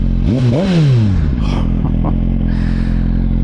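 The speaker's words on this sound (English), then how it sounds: "the Yoshimura AT2 slip-on exhaust" A Suzuki GSX-R1000 with a Yoshimura AT2 slip-on exhaust revs sharply twice with a deep, raspy exhaust note, then settles into a steady, throaty idle close by.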